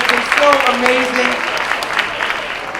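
An audience applauds at a seniors' talent show in Chattanooga, with dense clapping throughout and a voice talking over it early on before the applause carries on alone.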